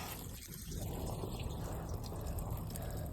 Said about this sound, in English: Look at all that water just pouring out.